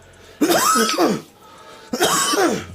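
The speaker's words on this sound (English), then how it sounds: "can you turn your head when you cough" Two separate coughs, each a loud, rough burst, the second arriving about a second and a half after the first.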